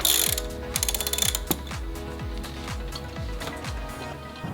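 A ratchet tightening the 19mm nut on a BMW N55 oil filter housing clicks in quick bursts, with repeated back-and-forth strokes of rapid pawl ticks, close up and steady, with no talk.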